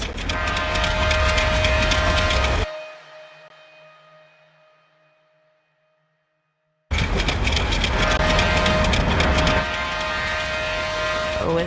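A loud rumbling train with steady rail noise cuts out abruptly, leaving a faint fading hum and silence, then the heavy clatter returns just as loud.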